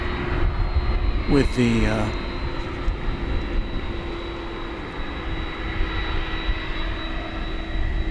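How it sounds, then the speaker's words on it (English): A Volaris airliner arriving from Mexico City lands with a steady, broad jet roar that holds throughout, while someone talks briefly over it near the start. "Flight 4800 Volaris coming in from Mexico City"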